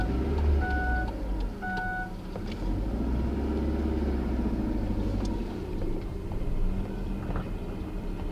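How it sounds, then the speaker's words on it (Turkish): A car engine idles after being started, a steady low rumble close by for the whole stretch, with a few brief electronic beeps early on. "Araba çalıştı."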